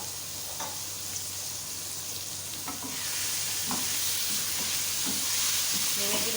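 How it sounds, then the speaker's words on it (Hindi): Mutton keema fries in a pan, giving a steady sizzle that grows louder midway, with repeated scraping stirs of a spoon against the pan. "कीमे की भुनाई करें अच्छी तरह से।"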